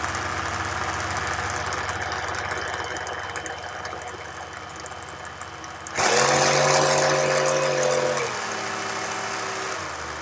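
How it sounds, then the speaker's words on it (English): Lumberjack 20V cordless drill driver whirring steadily at a constant pitch, then a louder, rougher burst of motor whine that drops to a lower steady hum near the end. "The other observation I've made with the driver is the sound. It sounds less smooth than my Dewalt."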